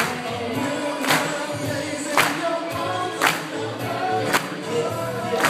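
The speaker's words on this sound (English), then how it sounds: "Everybody clap your hands." Wedding guests clap their hands in a steady beat, roughly one loud clap per second, over a busy backdrop of music and crowd noise at the reception.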